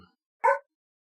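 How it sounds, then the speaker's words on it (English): A single short dog bark rings out once, clear and close, after a brief trailing sound, then silence. "He's just barking away."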